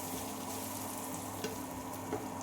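Capsicum fries in a pan for egg rice with a low, steady sizzle. The sound is faint and continuous, with a couple of small ticks from stirring and no voices.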